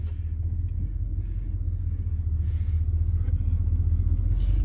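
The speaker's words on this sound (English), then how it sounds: "they'll rev it up and then it goes into gear." A Ford F150 with a blown transmission, low on fluid, rumbles with a deep, steady engine drone that builds slightly as it is revved, close and continuous with no voices.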